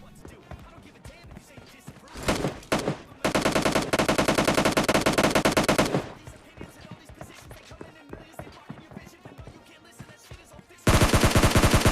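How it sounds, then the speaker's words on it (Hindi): Automatic gunfire in the mobile battle-royale game PUBG Mobile Lite during a squad fight, with sustained loud bursts of rapid shots, one long burst midway and another at the end, separated by scattered single shots. "यहाँ पास हमें गन साउंड की आवाज़ आ रही थी"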